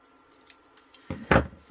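Scissors snip through a paper page tab, a couple of quick crisp cuts close by after a few faint rustles and clicks.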